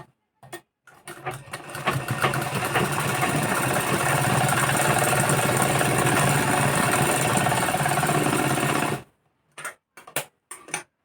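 A sewing machine runs steadily for about eight seconds while stitching a press-down seam on a blouse button placket, then stops, followed by a few short bursts of stitching. It sounds close and loud, with no talking.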